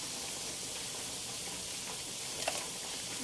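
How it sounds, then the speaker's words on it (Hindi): Whole spices such as black peppercorns and coriander seeds fry with onions in a pan for chicken keema, giving a quiet, steady sizzling hiss with faint stirring and no talk. "इन सब चीज़ों को हमें प्याज के साथ फ्राई करना है।"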